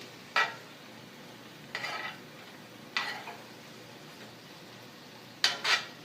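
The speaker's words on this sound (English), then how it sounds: "I'm just going to keep stirring until the sizzling stops." Mushrooms and carrots with vegan cheese stirred in a pan, a spoon scraping in four quiet, separate strokes over a faint low background, the last two strokes close together.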